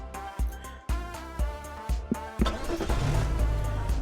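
A car engine in the video game Monster Road Trip turns over in short bursts, then catches and settles into a loud, steady running roar with a thick low rumble.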